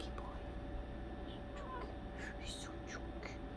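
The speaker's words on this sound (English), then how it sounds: "Anyway, that's my cat." Overweight pet cat meowing softly indoors, a few short faint mews scattered over a steady background hum.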